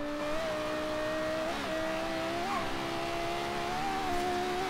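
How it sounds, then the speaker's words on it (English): A racing car engine in the Forza video game hums at a steady, slightly rising pitch, heard from inside the cabin, quiet and continuous. "At least it sounds like an engine, and it doesn't sound like it's artificial."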